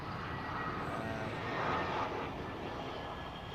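An aircraft at London Heathrow Airport, a distant, steady broadband engine roar that swells slightly midway and then settles, heard faintly with no talking.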